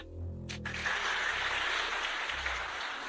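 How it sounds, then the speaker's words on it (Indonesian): Applause from a church congregation during a comic sermon, a soft continuous patter of many hands rising after a brief voice and holding steady, fairly distant. "Tepuk tangan."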